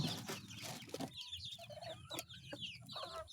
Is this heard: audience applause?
no